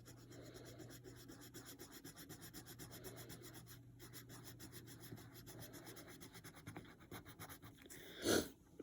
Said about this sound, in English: we are going to color in 3 pie slices